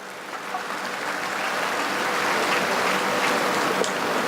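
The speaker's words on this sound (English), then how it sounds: "You can clap your hands as much as you want" A large audience at Sadhguru's Save the River speech in Chennai claps continuously, a thick, even roar of hands that builds slightly and holds steady, with no voices over it.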